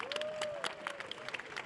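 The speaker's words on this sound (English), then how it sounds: "can we please give them a massive round of applause?" Applause from a conference audience at a ChangeNOW 2022 panel session, a short burst of scattered clapping, moderately faint, with a voice speaking briefly over it.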